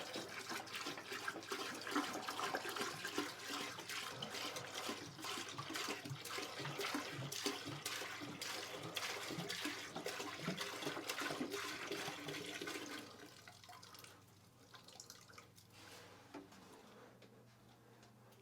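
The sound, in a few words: pouring a gallon of antifreeze down a toilet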